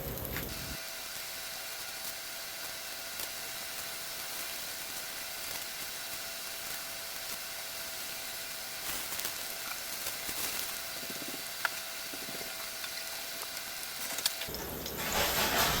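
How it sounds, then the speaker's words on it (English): Meatballs frying in a pan, with a quiet, even sizzle and hiss held steady throughout, a few faint clicks near the end. "let's get all these meatballs into the pan and go from there"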